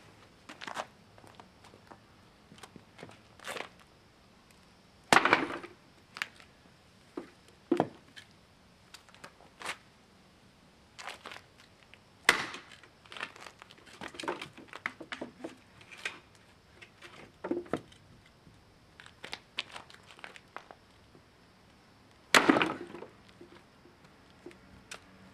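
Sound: Trucker's Friend utility tool splitting wet log

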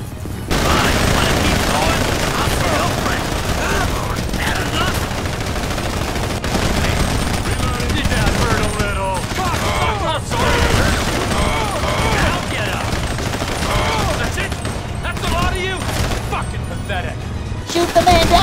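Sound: gunfire battle in video game GTA 5

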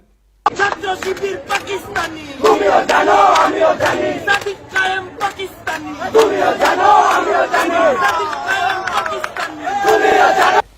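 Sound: crowd chanting political slogans

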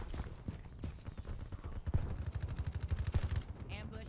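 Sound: CUDA gun with rapid fire shooting in Black Ops 3 video game

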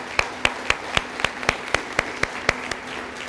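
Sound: audience applause

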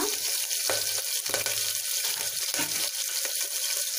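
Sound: onions and curry leaves frying in pan

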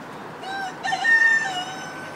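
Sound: guinea fowl calling

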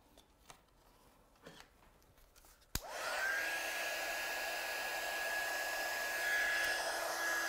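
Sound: heat tool heat setting embossing powder

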